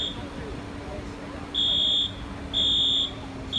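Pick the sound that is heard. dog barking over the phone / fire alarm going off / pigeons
fire alarm going off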